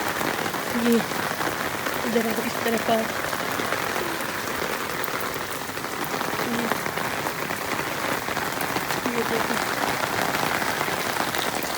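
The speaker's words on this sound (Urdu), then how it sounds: "اور کل سے اتنی زیادہ بارش ہو رہی ہے" Heavy rain pours steadily as a broad, dense wash of noise for the whole stretch, with a person speaking over it at close range.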